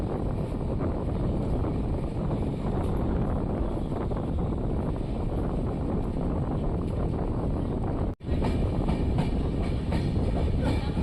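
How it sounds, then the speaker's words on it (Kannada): Passenger train rolling slowly through Basavana Bagewadi railway station, heard from on board as a steady loud rumble with wheel clatter and wind buffeting, broken by one brief sharp dropout near the end. "ನಮ್ಮ ಟ್ರೈನ್ ಈಗ ಬಸವನ ಬಾಗೇವಾಡಿ ರೈಲ್ವೆ ಸ್ಟೇಷನ್ನ ಸ್ಲೋ ಆಗಿ ಸ್ಕಿಪ್ ಮಾಡ್ತಿದೆ."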